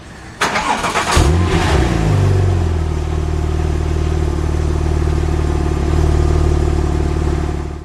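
A Porsche 911 997 Turbo with manual gearbox cranks briefly, then fires and catches with a loud flare, settling into a steady, throaty idle close by, with no talk.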